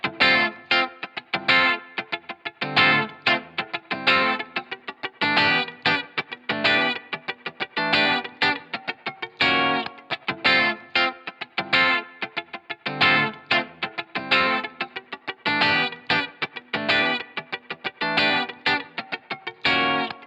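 Electric guitar played in choppy rhythmic strums, run through a free effects plugin that taming its range, with distortion and chorus colouring, steady and loud throughout.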